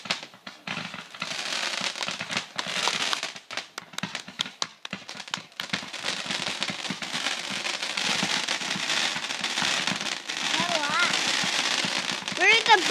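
Fireworks and firecrackers crackle and pop in dense, irregular bursts at a moderate distance, with sharp cracks early and steady crackling later, while people talk and shout nearby.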